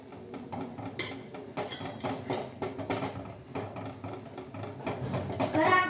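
Besan batter for Marathi pithla being stirred in a pot: repeated scraping and clinking of a spoon against metal in an uneven rhythm, close by.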